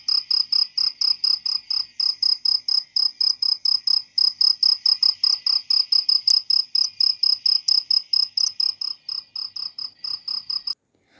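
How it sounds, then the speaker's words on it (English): Steady cricket chirping, a rapid regular pulse of bright, shrill trills repeating without pause for about eleven seconds, loud and close, with no voices, then stopping abruptly at the end. "She describes nature as the sound of cricket."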